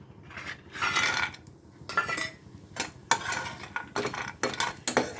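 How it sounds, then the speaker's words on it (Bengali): Bori lentil dumplings fry in hot mustard oil while a utensil scrapes and clinks against the pan, giving bursts of stirring and clatter over a steady low sizzle, close and moderately loud. "বড়িগুলো একটু ভেজে নিই"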